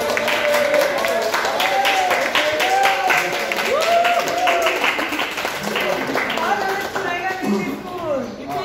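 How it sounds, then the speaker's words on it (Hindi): Schoolchildren at a military school clap together in uneven, scattered bursts while a voice calls out over them, with bright chatter mixed in throughout. "ताली बजाओ, कुछ भी करो।"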